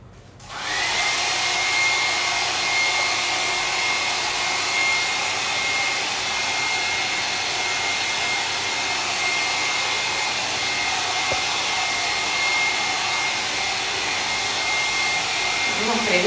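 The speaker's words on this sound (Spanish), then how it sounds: "lo voy a secar para mostrárselo seco" A hair dryer blows steadily on FolkArt Frost Effect paint, a loud continuous whooshing roar that starts abruptly and runs unbroken for about fifteen seconds, with faint voices underneath.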